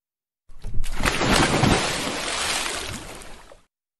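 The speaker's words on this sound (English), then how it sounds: "I heard the splash of the anchor behind us" A ship's anchor drops into the sea with a heavy, loud splash and a roaring surge of water that swells, churns for a few seconds, then cuts off abruptly, with no voices.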